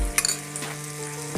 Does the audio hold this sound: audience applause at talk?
no